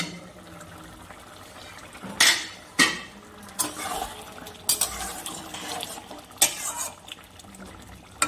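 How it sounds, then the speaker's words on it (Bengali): A lid is lifted off a cooking pan in which potato and ridge gourd with poppy seed are cooking. Sharp metallic clanks and knocks come close up, followed by softer clinks and scrapes. "আমি এটাকে 7 মিনিট পরে ঢাকনাটাকে খুলে নিচ্ছি।"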